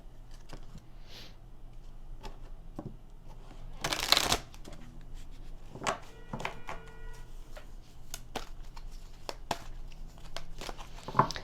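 A Gaia Oracle Cards deck being shuffled by hand up close, with soft riffling and flicking of card stock throughout and a brief loud burst of rapid shuffling near the middle, with no talking.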